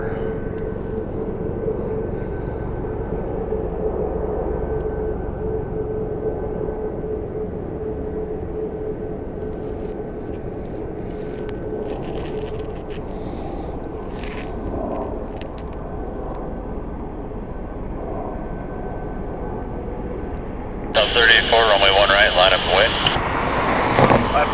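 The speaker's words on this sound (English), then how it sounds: "Got Frontier coming into frame. He is cleared for departure." A Frontier airliner taking off at Las Vegas Harry Reid International Airport, a steady distant engine rumble through most of the stretch, with a voice talking over it and brief clicks near the end.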